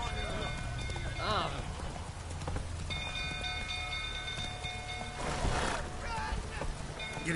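Hoofbeats of Roach the horse galloping in The Witcher 3, a continuous clattering rhythm under game ambience, with someone speaking intermittently over the ride.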